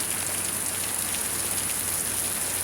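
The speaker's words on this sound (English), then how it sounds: "It's raining." Steady rain falls on a street in Texas, a dense, even hiss with no gaps, close and fairly loud, with no talking.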